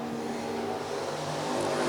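Stock cars on a dirt oval at an IMCA race hold a continuous engine roar, with a steady loud drone of motors racing around the track and no clear single pass-by.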